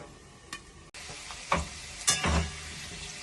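Potatoes fry over high flame in a covered pan for a cabbage dish, a low steady sizzle broken by a few sharp clattering stirs and lid knocks.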